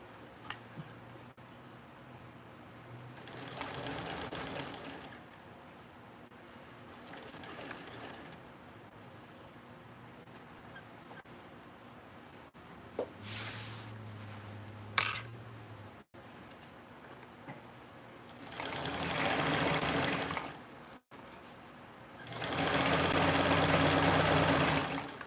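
A sewing machine top-stitches a slip pocket in several short bursts of whirring between quieter stretches, with some clicks and handling noise, close by and loud when running.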